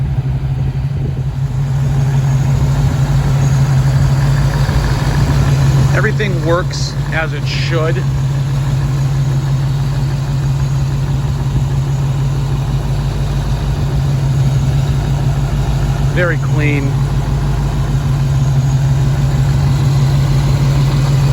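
A 1990 Ford Mustang GT engine idles with a low, steady hum that runs unbroken from start to finish, while someone talks briefly over it near the middle and again toward the end.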